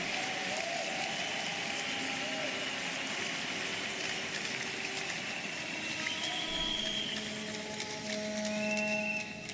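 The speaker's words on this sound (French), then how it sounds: "Give the Lord a big hand of praise, everyone." A church congregation claps steadily throughout, with scattered whistles and cheering rising over the applause.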